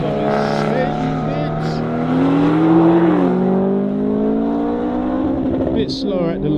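A BMW M140i launches and accelerates hard, its engine note climbing loud and close through a gear change, with voices talking over it near the end.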